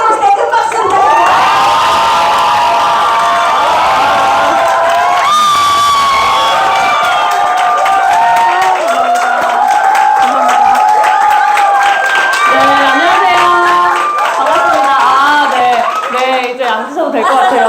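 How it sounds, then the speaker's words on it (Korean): Audience at a Korean business event cheering, whooping and clapping loudly as a speaker is welcomed onto the stage, with an emcee's voice running over the crowd throughout. "큰 박수 부탁드립니다"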